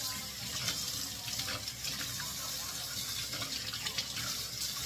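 Tap water pours steadily into a kitchen sink while something is rinsed underneath, a constant close hiss and splash with small irregular surges and no talk.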